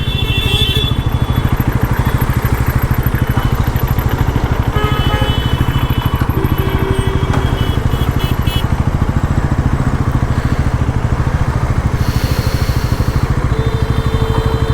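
A Bajaj Pulsar NS400 motorcycle running on a hot day, its engine giving a loud, steady, rhythmic mid-pitched thrum with clattery mechanical texture throughout, close and uninterrupted, with no speech.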